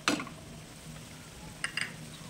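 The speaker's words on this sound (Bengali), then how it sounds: "নাড়াচাড়া করে ভালো করে মিশিয়ে নেব" A spoon stirs chicken bharta in a pan with cashew and charmagaz paste, a soft steady sizzle underneath, with a scrape at the start and a couple of light clinks near the end.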